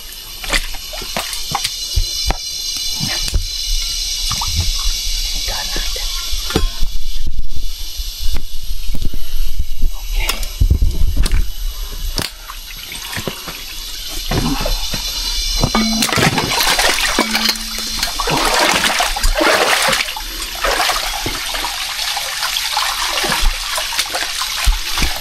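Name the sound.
water splashing during a bath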